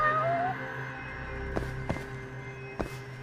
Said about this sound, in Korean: 항상 이거 조사할 때는 고양이 소리가 나네